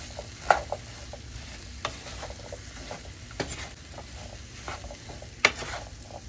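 Seasoned sweet potato chunks with dried Italian seasoning are stirred in a pan, giving soft scraping and shuffling with a few sharper utensil knocks, moderately close and steady with no talking.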